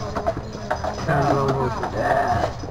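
Heavy draft horses' hooves clip-clop on a street on Mackinac Island, Michigan, pulling a hand-built carriage with steady rhythmic footfalls close by, while a guide's voice talks over them.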